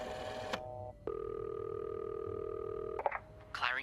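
A phone being dialed in a video game: a short tone burst, then a long steady ringback tone, then a few clicks and chirps as the call connects, all clear and close with no talk.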